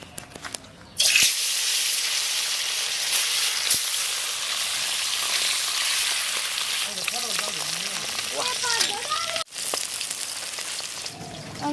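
Fish sizzles steadily in hot oil for a Bengali bata fish recipe, a loud continuous frying hiss that starts abruptly, with faint voices and brief stirring noises over it.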